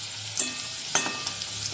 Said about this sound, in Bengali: মাছ, আলু, গাঁঠি সব ভাজা হয়ে গেছে।